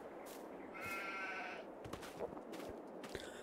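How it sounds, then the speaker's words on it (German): Sheep and young lambs bleat in a farm enclosure, several wavering calls overlapping near and far across a steady outdoor background, with no talking. "Da hinten sind die Schafe drin."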